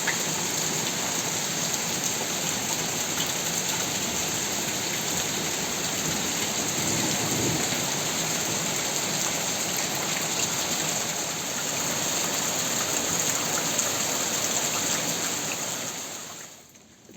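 Heavy rain pours steadily at a country dacha garden, a dense continuous hiss of drops on surfaces with a faint low rumble of thunder midway, fading out at the very end.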